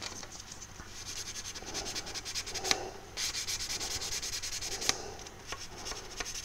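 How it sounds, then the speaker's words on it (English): Sanding the painted fuselage of a Lancaster Dambusters model aircraft, close rhythmic rubbing strokes with a few sharper scratches, steady back-and-forth with no talking. "A little bit too aggressive there."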